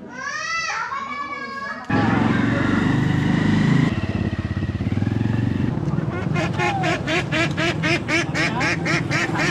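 Village ducks quack in short raspy bursts, with a rapid run of calls near the end, mixed with children's voices and a loud, engine-like droning noise.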